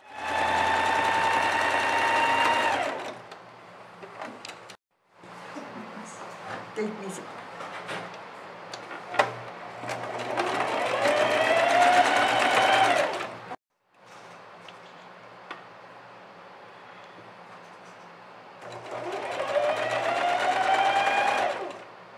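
A sewing machine runs in three bursts of whirring stitching along a seam on an elastic band, with short pauses between runs and a quieter stretch of handling noise in the middle.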